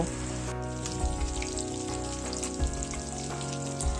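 Fish pieces fry in oil in a kadai, giving a soft, steady crackling sizzle close by that carries on throughout beneath a faint background hum, with no one talking.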